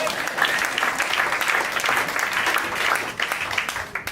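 Enthusiastic audience applause at a guitar concert fills the space, dense and continuous, thinning slightly toward the end.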